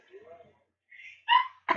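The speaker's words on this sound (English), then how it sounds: "He's just got terrible hiccups." A man hiccups several times in a bathroom, with short sharp bursts at the end, and a voice is heard faintly before the hiccups.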